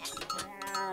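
Pigs grunting and oinking in the strategy game Age of Mythology Retold, a short burst of animal calls over a dense game soundscape with no talking.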